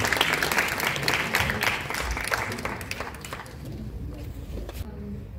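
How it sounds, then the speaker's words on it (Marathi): Audience applause welcoming a young tabla player at an outdoor amphitheatre concert, a dense, steady clapping that thins and softens toward the end, with some talk mixed in. "जोरदार टाळ्यांनी त्याला आमंत्रित करूया."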